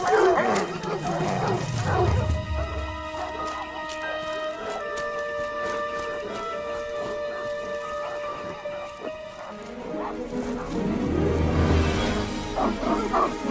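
Several dogs bark and yelp in a lively cluster, loud and close at first, then fading under a sustained musical tone before barking returns.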